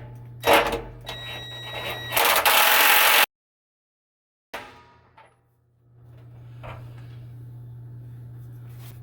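An impact driver tightens a new water heater anode in a loud, buzzing burst of hammering that stops abruptly, followed by a pause and then faint handling noises and a low hum.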